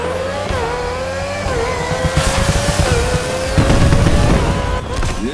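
Race car engine in The Crew Motorfest racing game, revving loudly and holding high with gear-shift dips, a rising whine that surges near the end alongside brief tire noise and thumps; no talking.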